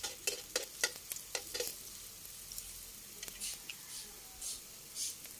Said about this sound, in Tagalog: nagigisa na po ako ng bawang